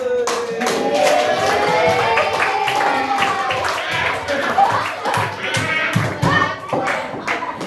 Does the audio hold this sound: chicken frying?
no